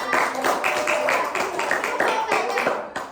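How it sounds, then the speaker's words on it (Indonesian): Third-grade pupils in a social studies classroom clap for everyone, a brisk rhythmic round of hand claps close by, with children's voices mixed in under the clapping. "Tepuk tangan buat semuanya."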